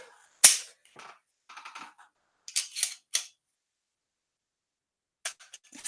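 Rifle shots from a P-mag magazine ring out in a quick uneven string, sharp and close, with several cracks bunched together and a final pair after a short silence, no voices.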